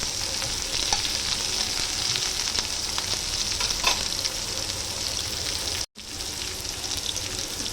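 Sliced onions sauté in a hot pan for a dosa chutney, a continuous bright sizzle and crackle close up. The hiss cuts out for a split second, then carries on steadily. No one speaks.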